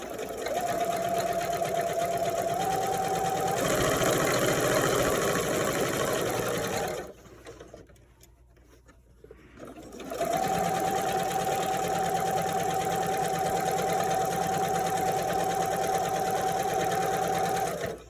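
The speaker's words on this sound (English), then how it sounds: "Got the last top stitch." A sewing machine top-stitches lacing stays onto a mask, running steadily and close for about seven seconds, pausing briefly, then whirring on again at the same even pace.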